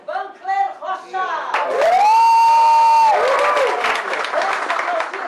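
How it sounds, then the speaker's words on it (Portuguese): Lecture audience on legislation and ethics claps and cheers for a named attendee, loud applause with a long whoop rising over it, after a speaker's announcement at the start. "Vamos aplaudir Vancler Rocha!"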